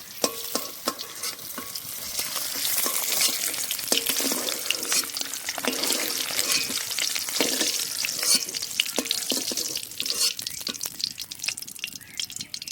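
Eggs fry in a pan for Bengali egg curry, a steady sizzle broken by irregular scraping and stirring clicks and crackles over several seconds, with no talk.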